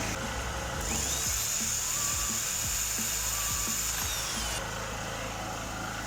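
A 2.2 kW electric saw runs on power from a petrol generator, its steady high motor whine loud and continuous behind the generator's low engine drone, with a few knocks and clunks underneath.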